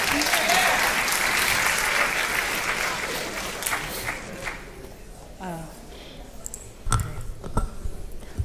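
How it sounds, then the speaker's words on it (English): Loud applause from an audience at a museum talk, dense at first and gradually thinning out, with scattered claps, voices and a few sharp knocks as it fades. "Can we get one more round of applause?"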